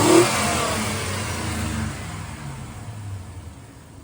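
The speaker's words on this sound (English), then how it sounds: "So I'm gonna go take it for a ride, make sure it works while the truck is on." A cheap $900 truck's engine revs hard while driving, a loud, close mid-pitched roar that rises then gradually eases off over a few seconds.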